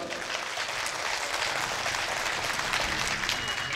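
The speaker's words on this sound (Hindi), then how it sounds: "एक बार तालियों से आदेशित करिए स्वागत।" Audience applause at a Hindi poetry recital by poet Ram Bhadavar, a steady, dense wash of many hands clapping close by, holding evenly for the whole stretch with no voice above it.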